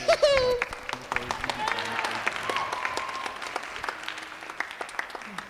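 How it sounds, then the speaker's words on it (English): Theatre audience at a high school stage production claps after a line from the stage, a loose mid-level patter of many hands that begins under a brief voice and then carries steadily to the end. "Clap if ye believe."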